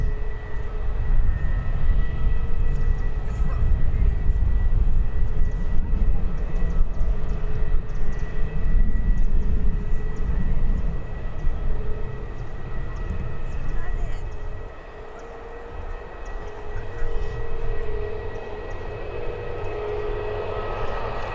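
An EasyJet airliner departs Birmingham airport with a loud, steady jet roar that rumbles heavily throughout, dipping briefly then swelling again, with a voice talking faintly underneath.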